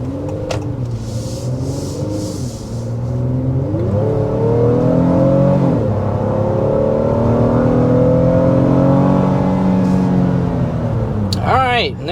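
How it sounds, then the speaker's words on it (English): A 2025 Honda Pilot Black Edition accelerates hard toward about 60 mph, the engine note climbing through rising gear pulls with brief dips at shifts, loud and close from inside the cabin, with a short voice near the end. "we're going to go ahead and start with a hard acceleration"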